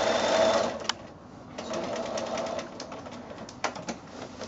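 A sewing machine stitches bias binding onto a scallop-edged quilt, its steady mechanical whir running close and continuous, pausing briefly and resuming, with a few sharp clicks along the way.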